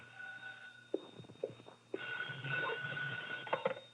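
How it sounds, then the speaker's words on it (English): A telephone rings in an apartment during a 1951 radio crime drama, a steady electronic-sounding ring running through the whole stretch at moderate level with some brief knocks and rustles around it. "My phone was ringing when I got there."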